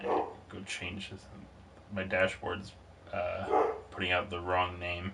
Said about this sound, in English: I don't know if you can hear my dog in the background.